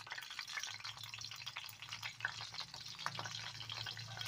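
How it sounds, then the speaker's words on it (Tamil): Gentle, continuous sizzling and crackling of pepper and cumin frying in hot ghee, close by, with a low hum underneath. "மிளகு நல்லா பொரிஞ்சு வரணும்"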